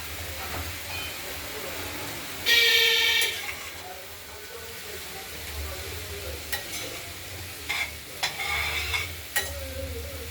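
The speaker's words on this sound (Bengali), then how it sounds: "এটা আমরা দিয়ে দেবো সজনে ফুল দিয়ে। এবার মশলাটার সঙ্গে কষাবো।" Drumstick flowers sautéed with spices in a pan give a low sizzle, with a loud burst of scraping and stirring early on, then quieter intermittent spoon strokes.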